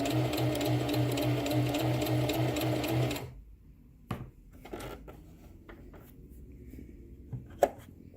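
Sewing machine stitching a button onto fabric, a fast rhythmic mechanical whir for about three seconds that then stops abruptly, followed by quiet handling clicks and rustles.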